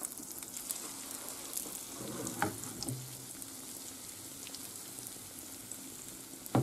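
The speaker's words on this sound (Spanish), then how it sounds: "Ya se ha derretido y ahora echamos la masa de crepes." Crepe batter hits a buttered hot pan and sizzles faintly and steadily, with a few soft clinks and scraping sounds in between.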